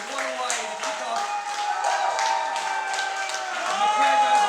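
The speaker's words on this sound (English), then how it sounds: "And the crowd goes wild." An audience applauding a live band at a radio station session, steady dense clapping with a few whoops, sustained and fairly loud throughout, no clear speech.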